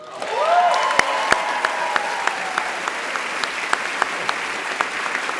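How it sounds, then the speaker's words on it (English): An awards-ceremony audience applauds a guest of honour, a broad wash of clapping swelling early and holding steady, with a few sharp, louder claps standing out near the front. "now we have to have like a special round of applause to our inspiration"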